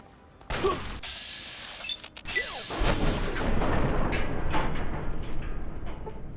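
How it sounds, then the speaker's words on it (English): Laser pistol fire from Fallout 3 bursts out in quick sharp zaps and booms, followed by a dense rattling barrage of combat noise that keeps going loud and close without any speech. "He's got a laser pistol, and it's a laser pistol that hurts."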